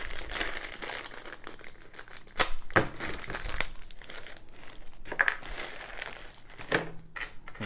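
Nails and metal hangers jangle and clatter inside a bag as it is handled, with crinkling plastic and sharp metallic clinks in irregular bursts, close and fairly loud.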